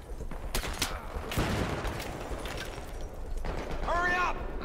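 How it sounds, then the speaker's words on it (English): Gunfire crackles through a Battlefield-style video game as a chaotic barrage of distant and nearby shots and bursts, with a player talking over it and a short electronic warning tone near the end. "I'm getting shot from everywhere."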